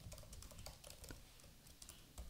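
Quiet, irregular keystrokes tap on a computer keyboard while CSS code is typed, a soft run of clicks with short pauses and no voices.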